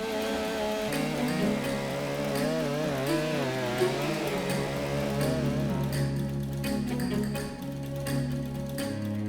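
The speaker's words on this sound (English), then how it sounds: "It's the most powerful chainsaw in the series. Most powerful chainsaw in the world." A Stihl MS 661 C-M chainsaw, a large felling saw, runs loud and close, its engine droning steadily with wavering pitch as the throttle shifts, then settling into a rougher idle.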